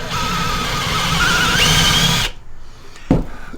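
A power drill spins a Bad Dog Rover bit into wood, a loud whirring grind for about two seconds that cuts off abruptly, followed by a brief, short burst of the drill.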